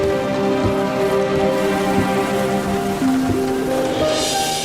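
Steady rain falls in a continuous, even wash, with a few sustained tonal lines running through it and no voices.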